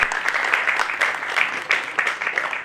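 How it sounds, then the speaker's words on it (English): Audience applause for a special speaker at a university event, a dense wash of many hands clapping steadily and fairly close, with no voices standing out. "A round of applause for our special speaker of the day"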